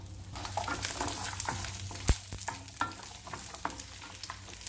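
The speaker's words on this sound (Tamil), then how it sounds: "மசாலாலாம் வதக்கிக்கலாம்" Masala with fennel seeds, garlic cloves and slit green chillies sautéing in a little sesame oil, a soft continuous sizzle punctuated by scraping stirs and a sharp clatter of a spoon against the pan, close and alone.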